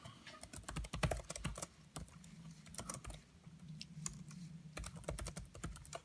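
Close, quiet clicking of computer keyboard keys, tapped in irregular bursts and single presses over a low steady hum.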